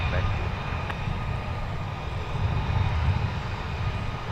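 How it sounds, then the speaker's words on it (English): Delta Embraer regional jet taxiing at Minneapolis–St. Paul airport, a steady low engine rumble filling the whole stretch, close and continuous with no break. "leading the way is Delta Flight 3838 going to Omaha, which is the Embraer"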